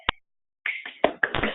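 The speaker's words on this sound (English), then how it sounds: "I'm clapping for Dan" A single sharp hand clap rings out close by, followed after a short pause by a few softer, busier sounds.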